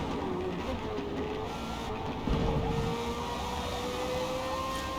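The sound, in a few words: car engine in Forza Motorsport video game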